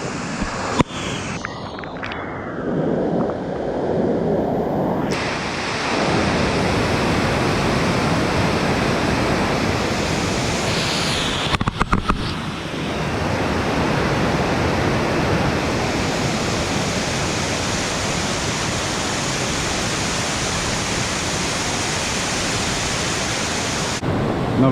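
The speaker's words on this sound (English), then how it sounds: "Man, this is a waterfall." A waterfall at Plitvice Lakes in Croatia: after a few quieter seconds with some handling bumps, a loud, steady broadband rushing roar of falling water fills the scene, with a brief crackle midway.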